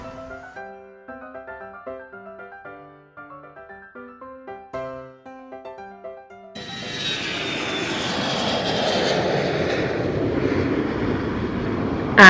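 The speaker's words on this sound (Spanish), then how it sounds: "avión," An airplane engine drones loud and steady, with a high whine on top, rising in after light children's music and lasting to the end.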